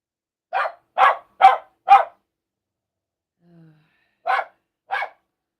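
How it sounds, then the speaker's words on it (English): A small dog barks six times in total: four sharp barks in quick succession, then a short pause with a faint low whine, then two more separate barks. Each one comes through close and loud against a silent background. "Sorry about the barking, guys."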